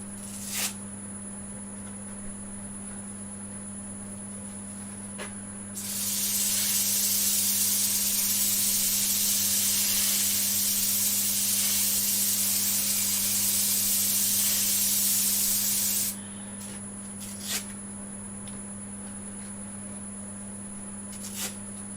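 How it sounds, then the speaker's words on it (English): Sandpaper, around 180 grit, works the foot of a large wooden platter on a lathe, making a loud, steady abrasive hiss for about ten seconds between stretches of quieter machine hum. "Now just sand that foot off"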